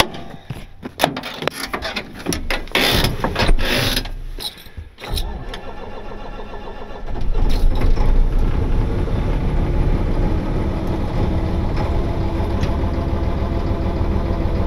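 A tow truck engine cranks with clattering and starts, then idles steadily with a rough, uneven flutter from a faulty fuel injector running through its loud, close rumble.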